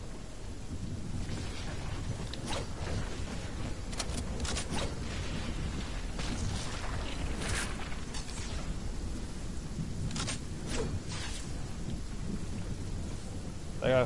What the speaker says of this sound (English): Because we're in a storm,